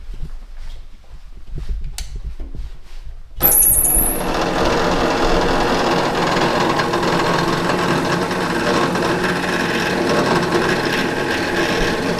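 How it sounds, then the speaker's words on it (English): Quiet umbrella workshop ambience, then a pillar drill starts with a high whine and settles into a steady, loud mechanical drone that runs without letup. "Back over to the pillar drill."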